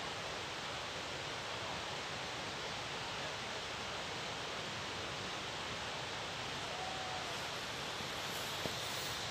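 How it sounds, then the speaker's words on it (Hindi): Water flows steadily through a quiet, dense forest valley in Kumrat, a constant broadband rush of a river with no voices, holding even for the whole stretch. "ये सिर्फ पानी की आवाज़ आ रही है।"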